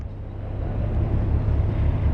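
A digging machine reverses nearby with a steady low engine rumble that holds even and fairly loud throughout, no voices over it.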